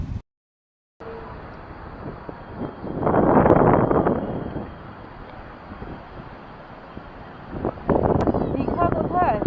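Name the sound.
strong wind at the sea beach in Puri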